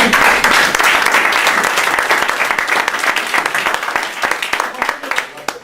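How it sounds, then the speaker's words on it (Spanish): A seated audience at a book presentation in Lleida breaks into sustained applause, many hands clapping loudly and close, then thinning into scattered claps toward the end. "esto solo ya merece un aplauso"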